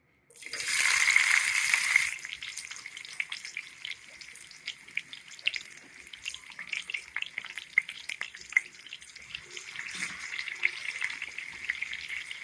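A loud sizzle bursts up as sliced tomato and green garlic hit hot oil, then settles into steady crackling and popping with occasional stirring scrapes.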